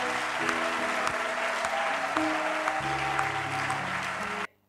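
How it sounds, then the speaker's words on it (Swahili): A church congregation applauds loudly and steadily for about four and a half seconds, with music playing underneath, before the clapping cuts off abruptly. "tuchapie Bwana makofi na nguvu"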